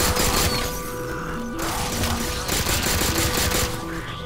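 Gunfire in a Halo 4 match, with bursts of shots and crashing impacts over steady game music, loud and close throughout.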